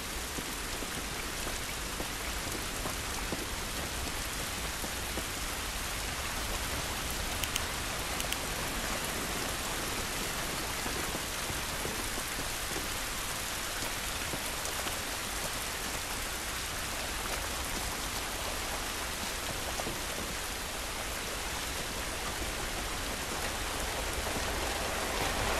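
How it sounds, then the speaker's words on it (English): Steady rain pours in The Last of Us, a dense, even hiss of drops on surfaces that continues unbroken and without talk. "This rain ain't gonna do us any good."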